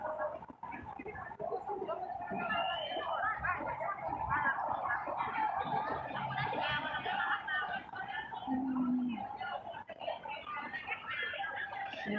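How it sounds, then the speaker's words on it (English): Many pigeons in a park make a dense, continuous mix of cooing and chatter, mid-distance and fairly quiet, over steady outdoor background noise. "there's a lot of pigeon."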